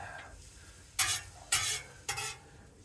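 Salted onions cooking in a pan outdoors are stirred with a utensil, giving three distinct scraping, sizzling strokes roughly half a second apart over a low background hiss.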